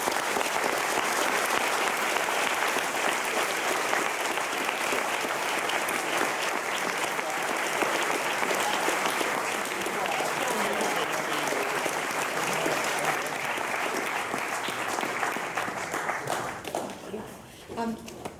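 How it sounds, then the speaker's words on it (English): A university audience gives the speakers a long, full round of applause after a refugee-policy Q&A, steady dense clapping that holds for many seconds before tapering off as a voice begins. "So if we can just give the great speakers another round of applause."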